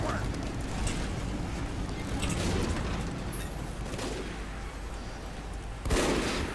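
Video game gunfire on a Badwater map, a dense, continuous rattle of shots with a sharper burst near the end, heard under steady commentary.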